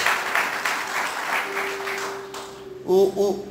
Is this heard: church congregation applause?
yes